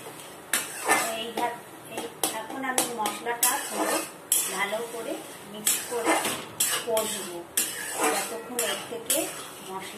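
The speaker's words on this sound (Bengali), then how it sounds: "মশলাটা ভালো করে ভাজা হবে না ততক্ষণ ভালো করে কষবো" Spices stirred and fried in a pan, with repeated scraping and clinking of a spoon against the pan in an uneven rhythm, while a person talks throughout.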